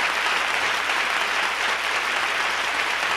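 A big round of audience applause after a Lowrey Symphony spotlight performance, dense continuous clapping that stays loud and even throughout, with no voices over it.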